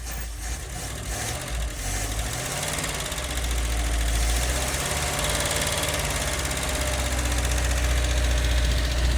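A Toyota Hilux V8, restarted after sitting dumped for a decade, idles steadily with a deep, even rumble and a slight knock, close and constant and growing a touch louder, with no talk.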